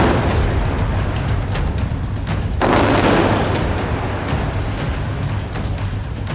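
Deep, distant explosions in a war zone roll in over a constant low rumble, with one heavier blast standing out midway through.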